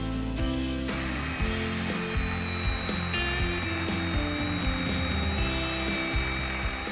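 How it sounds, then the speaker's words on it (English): A power drill with a bit extension bores up through a wooden post and beam, a loud steady whirring drone with slight pitch shifts as the bit bites into the wood, no talking. "Now I can drill up through the post and the beam to hide the wire."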